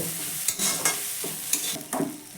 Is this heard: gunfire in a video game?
no